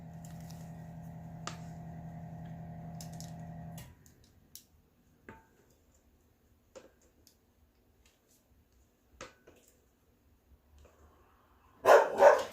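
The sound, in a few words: dogs barking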